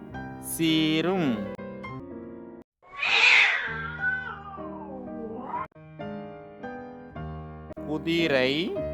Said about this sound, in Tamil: சீரும்.